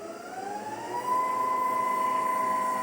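Car alternator used as a motor to drive DIY electric vehicle power steering, a steady electric whine that rises in pitch as it speeds up, then holds one sustained tone, close and alone.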